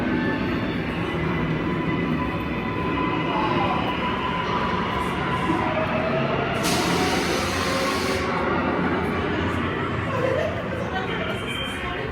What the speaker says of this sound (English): This sounds like the scary part. No, it's not. It's just the subway.